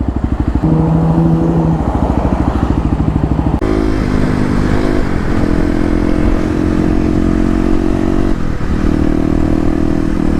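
A 2018 Kawasaki KLX250 dual-sport motorcycle engine putters steadily while riding through town, a close, loud single-cylinder thrum with a gear change and throttle shifts partway through.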